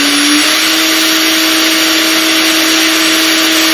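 An air-cooled 1.5 kilowatt CNC spindle motor runs near 20,000 RPM, a loud steady high whine with a rushing fan hiss from its top-mounted cooling fan, its pitch settling just after the start, no talking.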